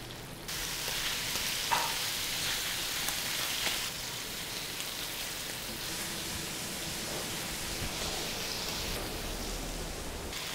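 Garlic paste and goat liver frying in oil on a tawa, a steady close sizzle and crackle that holds throughout with no talk.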